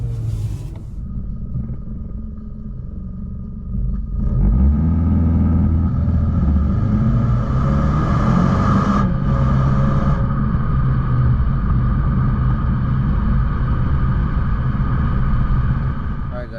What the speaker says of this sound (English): right foot on the gas. There it goes, and there we go. Look at that. And here we are, and up to the speed limit.